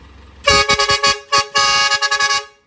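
A loud, musical stainless 304 aftermarket vehicle horn blares in a rapid series of short toots, then a second burst of quick honks, close and piercing.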